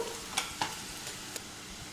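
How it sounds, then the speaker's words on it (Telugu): Soft sizzling of curry leaves frying in tempering oil, quiet and steady, with a few light stirring clicks. "తాలింపు అంతా ఒకసారి మళ్ళీ కలుపుకుందాము. కరివేపాకు వేగేంత వరకు."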